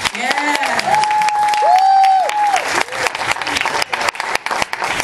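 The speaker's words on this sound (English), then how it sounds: "Let's have a clap for number two." Outdoor audience clapping for a street dance act at a seaside holiday park talent show, a steady mid-level patter of applause with a few whoops and voices over it, thinning out toward the end.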